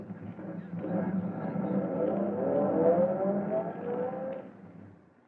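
Car engine in an old radio drama rising and then fading as the vehicle pulls away, a muffled, band-limited rumble that swells for several seconds before dying out.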